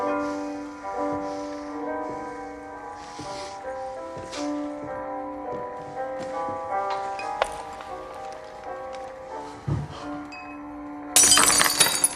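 A glass is dropped and shatters on the floor, a bright crash that bursts out right at the end after a long passage of sustained musical tones.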